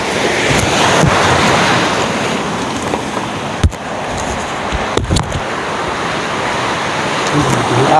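Strong wind roars steadily and loudly, buffeting the microphone, with a few sharp bumps and knocks partway through, while fishing in Ternate.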